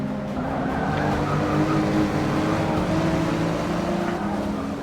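A BMW Z4 race car in Forza 6 on the Bernese Alps Club Circuit roars loudly and steadily at high revs, its engine drone unbroken through the whole stretch.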